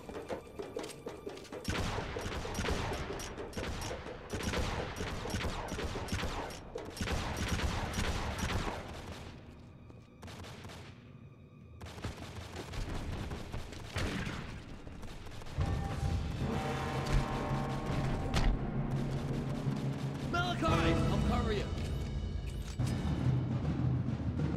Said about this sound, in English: we'll go with the shotgun here